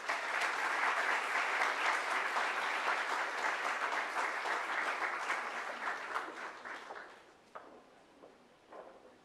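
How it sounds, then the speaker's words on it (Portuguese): An audience in a university lecture hall applauds the chancellor, a full even wash of clapping that holds steady, then tapers into a few scattered claps and dies away. "uma salva de palmas ao chanceler de nossa universidade"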